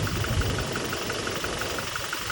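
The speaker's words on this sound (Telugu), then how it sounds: "ఇందాకటి వరకు మనవాడు ఇంజన్ ఐడిల్లో రన్ చేశాడు" A Toyota Innova Crysta engine idles steadily after about 1.5 lakh of driving, a continuous low mechanical rumble with a faint ticking knock, close and unbroken, no voices.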